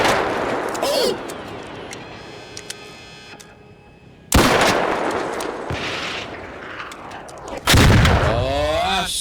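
Rocket explosions and gunfire in the video game Arc Raiders: sharp loud blasts hit suddenly with scattered shots between them, and a voice talks excitedly over the combat.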